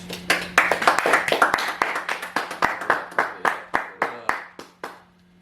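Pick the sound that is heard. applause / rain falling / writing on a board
applause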